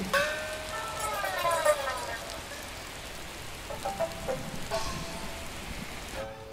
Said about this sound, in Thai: อย่าลืมพกอุปกรณ์กันฝนเมื่อออกจากบ้านในช่วงที่ฝนตกหนักอย่างนี้นะคะ